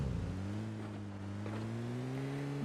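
A car in PUBG Mobile Lite drives along with a steady, droning engine whose pitch rises slowly as it speeds up, a continuous mechanical hum with faint background game noise.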